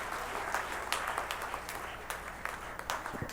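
Audience applause for Bollywood actor Shekhar Suman at the Atal Mithila Samman event, a moderately faint, steady patter of many hands clapping, with no talking over it.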